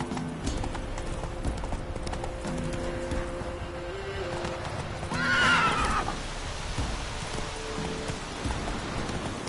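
A horse in Witcher 3 clip-clops at a steady pace, hooves thudding up close, with a brief whinny partway through over a soft rainy ambience.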